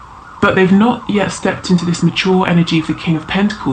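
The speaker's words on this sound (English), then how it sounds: "Sorry about the sirens." Emergency sirens wail outside throughout, rising and falling in a loud repeating pattern beneath someone talking steadily close by.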